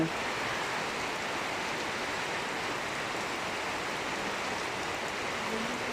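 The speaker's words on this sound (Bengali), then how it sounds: "প্রচুর পরিমাণে বৃষ্টি নামতেছে" Heavy night rain in Parulia Union, Kashiani, Gopalganj, a dense unbroken roaring hiss of downpour that stays even and steady throughout, with no voices.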